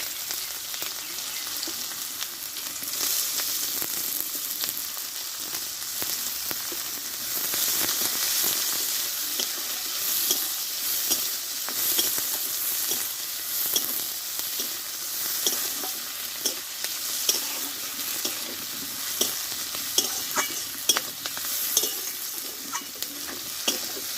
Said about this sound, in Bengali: এবারে কিছুটা আমি পেঁয়াজ আমি একটু ভেজে নেবো